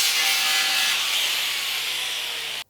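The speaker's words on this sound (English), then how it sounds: "I'm going to cut a little piece off the back of the blade so it sits in a little bit further" Saw cutting a small piece off the back of a metal blade, a continuous close, bright rasping drone that holds steady and stops abruptly at the end.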